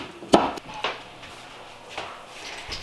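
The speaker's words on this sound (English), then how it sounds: "I'm not chopping this very prettily." A knife chops peppers on a cutting board in a home kitchen, giving a few sharp, uneven knocks: one solid strike, then several lighter taps spread over a quiet background.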